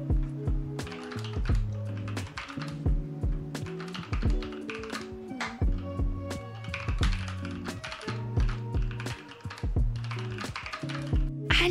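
Typing on a Logitech G713 keyboard: brisk, uneven bursts of close mechanical key clicks with short pauses, alone and fairly quiet.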